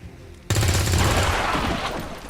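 A loud, sudden burst of gunfire in XCOM 2: Long War 2 erupts after a brief quiet moment, then rolls on as a dense, sustained crackle of shots and echoing impact.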